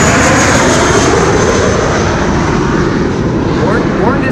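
An Airbus A380 in a special rainbow livery flies near Schiphol, its engines producing a loud, steady broadband roar that fills the whole stretch, with voices talking over it.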